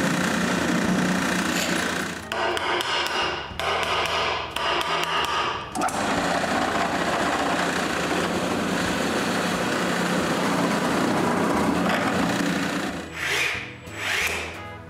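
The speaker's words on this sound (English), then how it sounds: "Then Alain pre-drills some counterbore holes into the legs so we can screw them to the post we turn together." A power drill pre-drills counterbore holes into wooden coat rack legs in a workshop, with sustained loud whirring broken by short bursts, stops and restarts, plus rubbing and knocking of wood.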